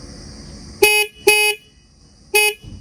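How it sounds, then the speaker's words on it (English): A Bajaj Dominar 400 BS6 motorcycle's horn gives three short, loud, bright honks, two close together and a third after a pause. "Let's listen to the horn now."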